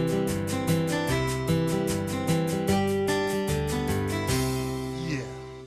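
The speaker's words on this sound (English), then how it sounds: "And you got one here called acoustic guitar, which sounds like this." Acoustic guitar style on an Estey Freedom III organ: rapid, steady strummed chords over a bouncing bass line in a country rhythm, loud and full, ending on a ringing chord that fades out.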